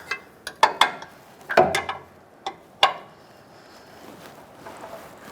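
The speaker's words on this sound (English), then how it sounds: "Now let's tighten up this 14mm bolt. An open-ended wrench is all I'm going to be able to get in there" Metal wrench clicks and clinks while tightening a 14mm bolt on an air bag spring install on a 1999-2007 Ford F-350: several sharp, close ticks in irregular bursts, then quieter rustling.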